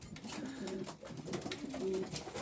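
Homing pigeons coo during pairing and mating in a cold loft, soft repeated throaty calls overlapping at close range against faint background noise.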